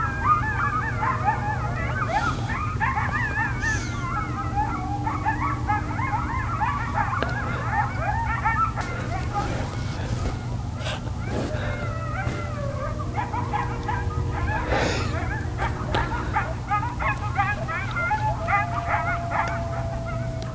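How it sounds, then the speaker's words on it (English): A pack of coyotes yips and howls together in a steady chorus, high wavering cries rising and overlapping over constant low background noise throughout, heard outdoors while a wheel is being prepped and ceramic coated. "Do you hear the coyotes?"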